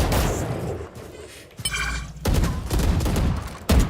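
Gunfire in the video game Valorant during a pro match, dense bursts of rapid shots and impacts filling the clip, loud and continuous with a brief lull midway.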